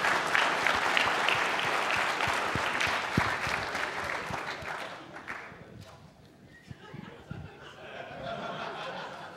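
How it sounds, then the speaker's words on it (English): An audience at a college cyber defense competition awards ceremony claps loudly for a team, the dense applause fading after about five seconds into scattered claps and room murmur. "Round of applause for Howard."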